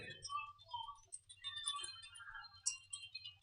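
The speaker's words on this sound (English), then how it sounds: "here I'm just going to type it in" A computer keyboard being typed on, a run of light, quick key clicks close by with short pauses between bursts, heard faintly with no talking.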